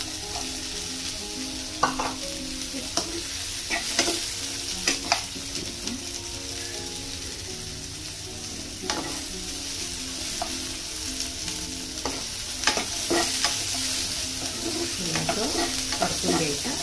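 Chickpeas (chole) are sautéed in a hot pan, a continuous close sizzle with frequent spoon scrapes and stirring knocks throughout and no talking.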